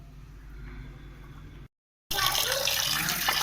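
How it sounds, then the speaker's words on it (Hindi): Tap water runs while fish is washed, a steady hiss at first, then a brief silence before a louder, brighter splashing stream resumes close by. "फ़िश वॉश कर लेते हैं।"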